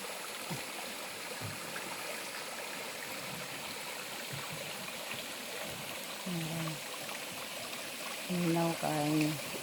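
A creek flows with a steady, soft wash of running water, with brief tonal calls rising near the end.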